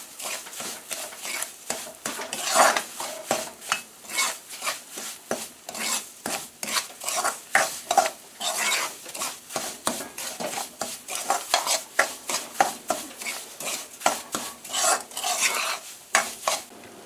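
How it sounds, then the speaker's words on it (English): A spoon stirs cream of wheat parsad in a pot on a medium stove, producing continuous close scraping and clinking strokes in a brisk, uneven rhythm with faint sizzling underneath and no talk. "she just added all the cream of wheat there. And you got to keep stirring this here now."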